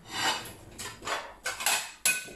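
Dishes and a plate clink and clatter in a kitchen as a dish holding an egg is covered with a plate for the microwave, several close knocks and scrapes in an uneven rhythm with no talking.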